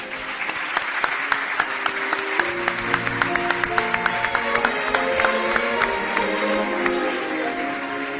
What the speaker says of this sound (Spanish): Un aplauso, por favor, para Joaquín de Diego.